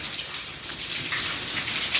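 Water running hard from a tap fed by a motor pump, a loud, steady hissing gush without talk.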